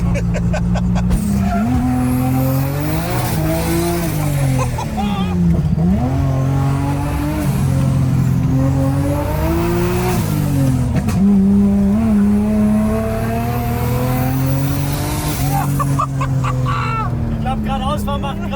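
A 700HP turbocharged BMW E36 drifts with its tires squealing and the engine revving hard and loud throughout, while voices talk over the noise.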